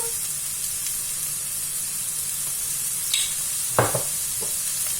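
Chicken filling seasoned with salt, pepper and garlic powder fries in a pan with a steady, even sizzle, interrupted near the end by a couple of brief clinks from stirring.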